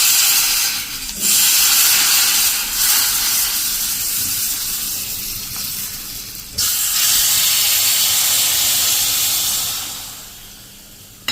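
A hot tempering is poured into mango fajeto and sets off a loud, hissing sizzle that surges, briefly dips, swells again, then fades toward the end, with no talking.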